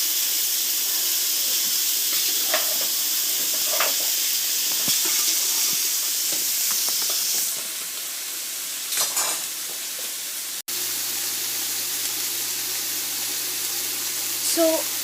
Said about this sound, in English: so I'm just going to fry it and keep it ready till the meat cooks.